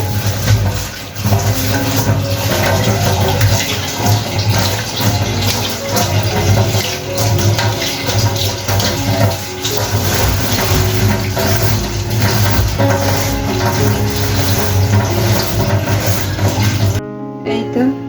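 Running water rinsing a kitchen sink during household cleaning, a loud continuous gushing splash held for most of the stretch before cutting off abruptly near the end.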